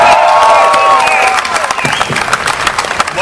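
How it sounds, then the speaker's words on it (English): Audience applause and cheering fill a packed E3 2013 panel hall honoring video game motion capture and voice artists. Loud, dense clapping with whistles and shouts swells at first, then eases into steadier, slightly thinner applause. "Let's give them a warm round of applause."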